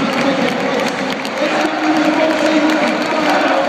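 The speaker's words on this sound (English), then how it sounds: "Widnes players come to applaud the home end for them" Widnes rugby league fans in the home end of a packed stadium at the Magic Weekend in Newcastle, with players coming over to applaud them. Steady, loud crowd noise with clapping and cheering runs throughout.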